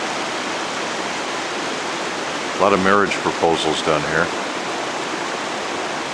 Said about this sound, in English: the water is rushing rather well down the falls